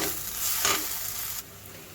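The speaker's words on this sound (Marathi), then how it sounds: "आता हे वाटणही आपण छान परतून घेऊया" A ground peanut and sesame masala paste for stuffed brinjal is sautéed in a pan, giving a short, close sizzle with a brief scraping stir that drops away toward the end.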